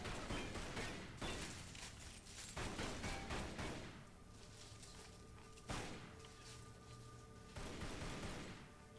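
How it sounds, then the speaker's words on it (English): Bursts of video-game gunfire come in several loud, broad volleys separated by short pauses, close and dense. "I'm just randomly shooting at stuff now"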